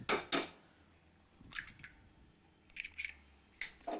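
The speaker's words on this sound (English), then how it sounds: "we're going to crack in 2 eggs" Two large eggs cracked into a small bowl of wet ingredients for a Christmas pudding: a couple of sharp taps and cracks near the start, then soft wet squishes and drips as the eggs fall in, close and fairly quiet.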